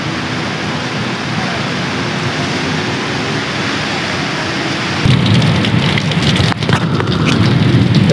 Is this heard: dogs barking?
no